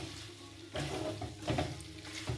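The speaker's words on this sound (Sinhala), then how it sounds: "මේ තියෙන තෙල් සේරම වාෂ්ප වෙනකම් අපි බැදුම ලිපේ තියන්න ඕන" Fried chicken sizzling in oil in a pan, a steady crackling hiss with brief louder bursts of spattering as pieces shift, close and alone with no voices.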